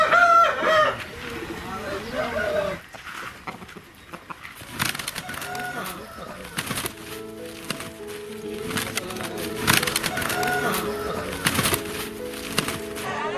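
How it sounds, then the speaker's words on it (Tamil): Fighting roosters at a four-day cockfight event crow repeatedly in close, loud calls, with clucking and someone talking over them. "4 நாட்கள் நடைபெறும் சேவல் சண்டை நேற்று தொடங்கியது."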